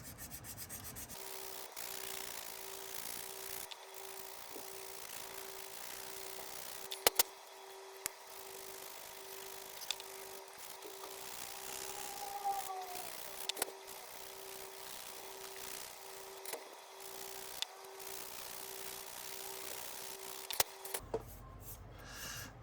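Continuous rubbing and scratching of sandpaper strips against a small hard plastic model part of an M109 self-propelled howitzer turret, steady strokes with a few sharper clicks, close and fairly quiet.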